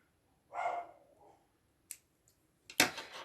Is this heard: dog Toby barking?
yes